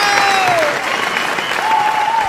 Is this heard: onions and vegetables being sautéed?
no